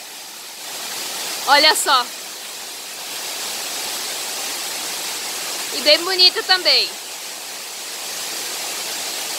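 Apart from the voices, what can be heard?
São João waterfall, Chapada, Brazil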